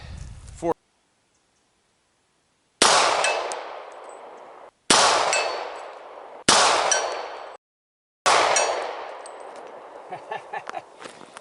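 Four sharp pistol shots from an HK USP at about 70 yards ring out, each followed by a metallic ring off a steel target, spaced a couple of seconds apart with silence between.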